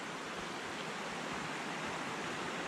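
A creek flows beside the North Fork Skokomish River trail in Olympic National Park, a steady broadband rush of running water, quiet and unbroken with no voices.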